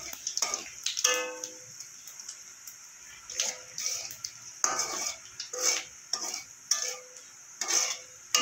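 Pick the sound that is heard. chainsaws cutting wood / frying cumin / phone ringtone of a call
frying cumin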